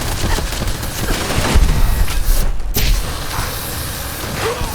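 A flamer weapon firing in Fallout 4 on Xbox Series X makes a continuous, dense roaring rush with rough crackling bursts, loud and unbroken, with a brief dip in the middle.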